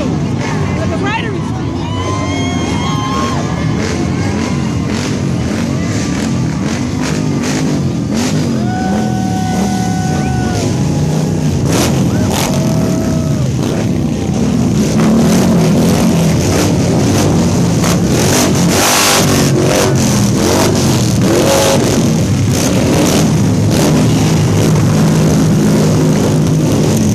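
Motorcycles rumble past in a parade at a protest, with engines revving and droning at mid distance over crowd noise and voices.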